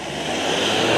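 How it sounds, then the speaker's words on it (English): Passing road traffic near the Bramley Moore Dock stadium construction site, a broad steady car-engine rush that swells slightly louder, close and alone. "Sorry, excuse the traffic noise."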